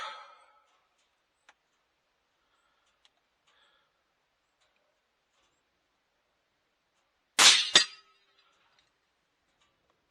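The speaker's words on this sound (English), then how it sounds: "Gonna load the rifle. I'll take a pop at that point of aim and see where my bullet's point of impact is." A rifle shot fired at a target 100 yards away cracks once, loud and sharp, with a brief second report just after, amid near silence and a few faint ticks; no talking.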